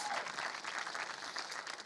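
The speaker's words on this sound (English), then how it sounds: "give that a round of applause" A brief burst of audience applause at a public speaking talk, a dense even patter of clapping that stays at a moderate, slightly distant level for under two seconds.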